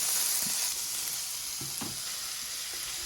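Pork lard cut into fairly large pieces sizzles and crackles steadily in a hot pan, a bright hissing texture with occasional soft pops and a few faint knocks.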